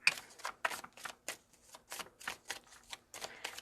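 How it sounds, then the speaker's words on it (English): Steady tarot card shuffling, a series of soft crisp riffles and bridge-like flutters repeating at a brisk, even rhythm, close up and fairly quiet. "One more shuffle. Let's shuffle it this way."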